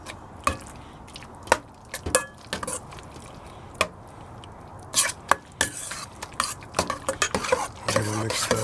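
Potato salad dressed with Dijon mustard is stirred in a bowl: a series of sharp spoon clicks, scrapes and wet squelches in irregular bursts, close and clear, with no speech.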